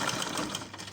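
A sewing machine stitches Ankara fabric for a smoky tube crop top, a steady close whirring hum that runs alone for about a second.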